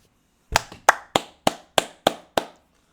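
Hands clap seven times in a quick, fairly even rhythm, each clap sharp and close, with no voices over them.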